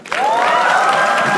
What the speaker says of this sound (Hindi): सौरभ पांडे के लिए तालियां हो जाए एक बार